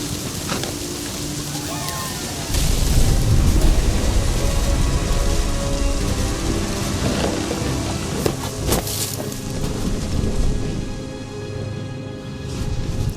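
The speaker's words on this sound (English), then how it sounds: "The thunder sounded much too close and full of angry power." Rain and thunder in the video game What Remains of Edith Finch: a steady wash of rainfall with a deep rumbling swell and scattered sharper cracks, continuous and fairly loud throughout.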